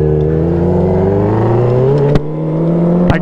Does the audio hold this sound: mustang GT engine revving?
yes